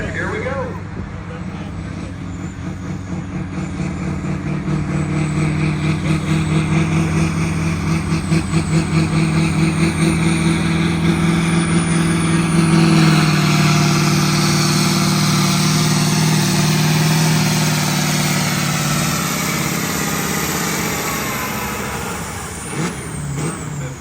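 Light Limited Super Stock tractor at a Cuba City ECI tractor pull, engine roaring steadily and building in strength, pulling hard for about twenty seconds before easing off, with an announcer talking over it.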